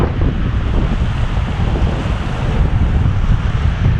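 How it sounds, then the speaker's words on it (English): Wind and surf on a beach in coastal Maine make a steady, loud rush with heavy low rumble from the wind on the microphone and constant wash of waves, with no voices. "Got a windy day for a launch today."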